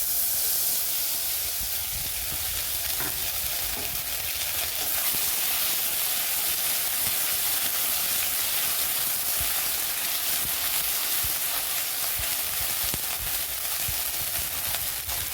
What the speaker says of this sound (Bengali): ধনে আদা বাটা ভাজা হলো